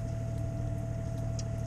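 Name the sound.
sailboat's Volvo engine running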